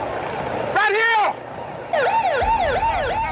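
Loud wailing ambulance siren, first one rising and falling sweep and then a faster repeating warble, heard close and over a background rumble, with a voice speaking briefly.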